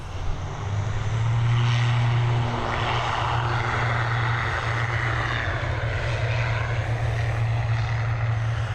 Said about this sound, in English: EI3408, this ATR 72600 series, operated by Aer Lingus, first registered in April of 2016